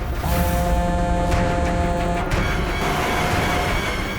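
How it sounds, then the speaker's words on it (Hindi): Road traffic rumbles steadily around a vehicle, with a sustained horn-like tone in the first half and no speech. "अरे ट्रैफिक, अभी ट्रैफिक मिलना था क्या?"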